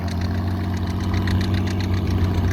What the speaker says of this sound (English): Then we got a Farmall 460 with the extra 50 horsepower stack